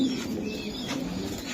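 A racing pigeon cooing close by, a low steady throaty murmur with no talk over it.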